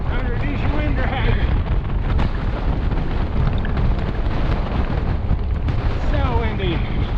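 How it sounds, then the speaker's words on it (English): Strong gusty wind roars across the microphone while a rider cycles downhill toward a pass in the Cedar Mountains, a loud continuous rumbling buffet with faint voice-like sounds beneath it. "So windy."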